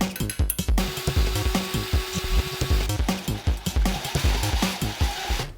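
Metal rods being worked out of a salvaged gear assembly, a rapid series of scraping, rattling clicks and knocks in uneven rhythm, close and loud with no talking.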